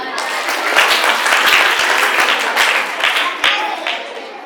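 An audience at an Independence Day celebration claps in a dense, loud burst that swells and then tapers over a few seconds, with some voices mixed in.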